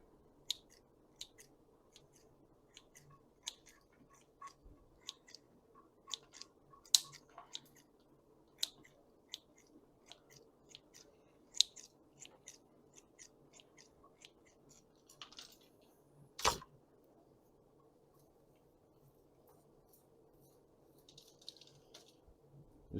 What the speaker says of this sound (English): I'm going to go ahead and cut some of these roots off